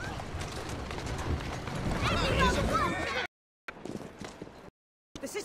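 Horse hooves clip-clop on city streets in Assassin's Creed Syndicate, a steady trotting rhythm amid busy game street noise, broken by abrupt silent gaps.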